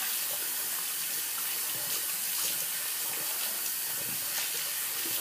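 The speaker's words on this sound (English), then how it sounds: "So I'm just going to go ahead and rinse the brushes off" Running tap water rinses shaving brushes with a steady, close hiss and splash, with slight shifts in the flow as the brushes move under the stream.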